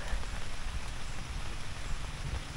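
Steady rain patters down at a campsite, a dense, even hiss of drops striking surfaces close by, continuous and without voices.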